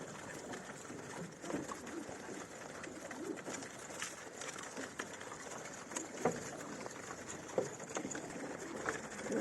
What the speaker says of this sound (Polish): Tutaj w gołębniku jesteśmy, gdzie moje młode pokazywałem.